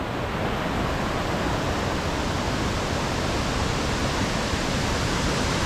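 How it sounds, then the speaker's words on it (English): Waterfall at Rifle Falls State Park, a dense, even roar of pouring water filling the whole clip, loud and constant without pauses or voices. "So here we're crossing the first waterfall."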